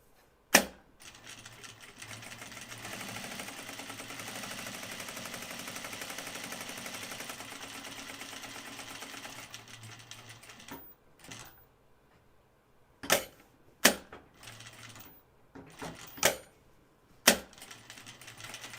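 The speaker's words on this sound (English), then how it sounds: "I need to top stitch this opening." Sewing machine topstitching a flight suit, a sustained mechanical whir running for roughly ten seconds, followed by several sharp isolated clicks and knocks, fairly quiet overall with no talking.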